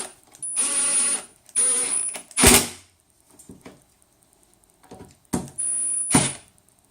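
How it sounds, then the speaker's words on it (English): A Milwaukee drill driver runs in several short whirring bursts while tightening bolts on a frame assembly, with sharp clutch clicks at the end of some bursts and small metallic ticks between them. The sounds are close and there is no talk. "I do like a couple of clicks by this Milwaukee"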